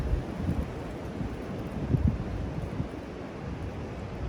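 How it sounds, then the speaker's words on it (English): Strong gusts of wind sweep over trees at an RV stop, buffeting the microphone with a continuous low roar that swells and surges in uneven pulses, with no voices. "This wind is crazy. I mean, it's got to be 20 mile an hour wind gust."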